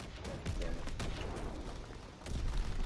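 Panzer Strike explosions in a video game: a dense run of booms and blasts through the whole moment, with a louder burst near the end, under a player's voice.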